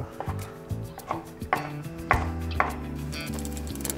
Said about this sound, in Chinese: 我们就可以把它切成梅干菜碎，就是把它切碎就好了